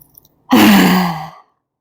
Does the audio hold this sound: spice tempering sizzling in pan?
no